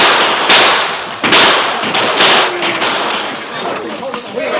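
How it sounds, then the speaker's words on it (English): Sharp gunshot cracks burst out in a loose series, several close together, over a dense roar of commotion and shouting voices, in an old radio drama. "Under cover of constant gunfire"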